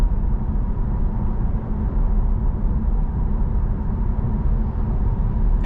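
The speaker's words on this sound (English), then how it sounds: "All I could really hear is a tiny bit of humming from the tires." Inside a 2024 Cadillac CT5 V-Series cruising at 45–50 mph, a steady low tire hum and road rumble fill the cabin continuously, even and unbroken throughout.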